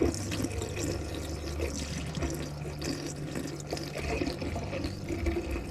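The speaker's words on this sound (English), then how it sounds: "So we're just pouring a little bit into the trap." Liquid pours steadily into an RV drain trap during winterizing, a continuous splashing, gurgling trickle heard close and fairly quiet, with no talk.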